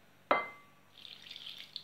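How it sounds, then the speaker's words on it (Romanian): Water is poured into a bowl of crumbled yeast and sugar, a single splash onset followed by a brief ringing tone and a soft, continuous trickle that fades then picks up again. "O să adăugăm puțină apă."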